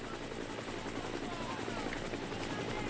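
A helicopter hovers over a road cycling race at the 2005 Tour of Spain, its rotor giving a steady, even whir throughout.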